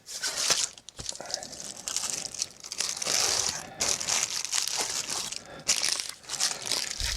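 Continuous crinkling and rustling of a padded plastic mailer being handled up close, with irregular crunchy bursts and brief pauses.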